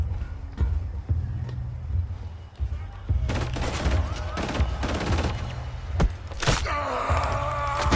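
Gunfire and battle noise in the first-person shooter Killzone Shadow Fall, a dense, loud burst of shots and impacts building after a tense low rumble, with voices and a groan mixed in.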